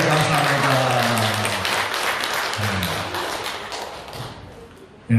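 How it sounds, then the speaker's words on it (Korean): A church congregation gives the children a big round of applause during Sunday worship, a dense, steady wash of clapping that holds for about five seconds and swells again sharply at the very end, with a voice speaking over it. "우리 아동들을 다시 한번 크게 박수 주세요"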